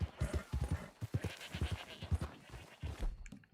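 Horse hooves clip-clop in a steady, close rhythm while riding in the open-world western video game Red Dead Redemption 2, with faint ambient game sounds and no speech.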